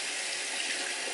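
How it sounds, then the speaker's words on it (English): Water runs steadily from a bathroom tap into a sink while it warms, a constant close hiss with no pauses and no talk. "I'm waiting for the water to get a little bit warm."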